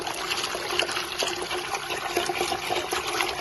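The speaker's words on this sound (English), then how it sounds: "the water pumping is continuous and forceful" Continuous gushing and trickling of water pumped in a steady stream by a speed-adjustable 24-volt 86W brushless DC micro water pump, close by and even in level, with no voices.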